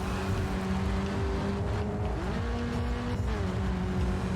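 Race car engines roaring in the racing game GRID 2, a steady loud drone with rising and falling engine pitch as the cars accelerate and shift gears, alone without talk.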